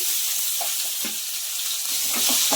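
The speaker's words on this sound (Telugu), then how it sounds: "బాగా ఫ్రై చేస్తామండి ఆనియన్ కొంచెం బ్రౌన్ కలర్ వచ్చేంత వరకు" Onion and curry leaves frying in hot oil, a loud continuous sizzling hiss up close with faint stirring knocks underneath and no talking.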